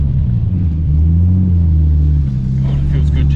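A Nissan R34 GTR engine rumbles low and steady from inside the car while driving, with a deep droning tone that shifts slightly in pitch, and people talk briefly near the end.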